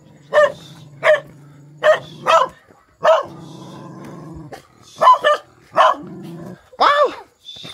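A dog barks repeatedly in sharp loud bursts, with a low growl rumbling between barks, close by outdoors in rural Vietnam.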